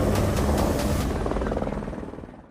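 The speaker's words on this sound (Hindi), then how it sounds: "सुनाई दे रहा है ना आपको? 2024 के लोकतंत्र के फाइनल मैच में ये आज तक का हेलीकॉप्टर शॉट है।" A news channel helicopter flies overhead, its loud rotor thump and engine roar steady and close for about two seconds, then fading away toward the end.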